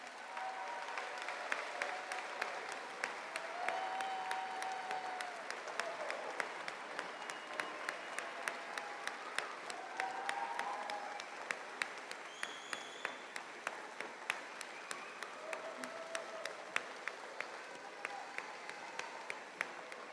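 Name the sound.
applause for graduates at commencement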